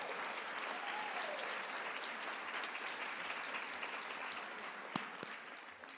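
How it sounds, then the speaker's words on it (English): Audience at a Doctor of Physical Therapy commitment ceremony for the class of 2024 applauds families and parents, a dense, steady roar of many hands clapping that holds throughout and tapers slightly at the end. "Give a great round of applause for all the moms and dads and families and parents and everybody out here"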